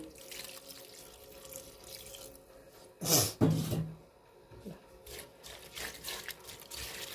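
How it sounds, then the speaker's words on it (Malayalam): Water poured into a cooking pot holding bitter gourd with turmeric and salt, a loud splashing gush lasting about half a second, then quieter trickles and small knocks in a kitchen. "ഇതിലേക്ക് നമുക്ക് ആവശ്യത്തിന് വെള്ളം ഒഴിച്ച്"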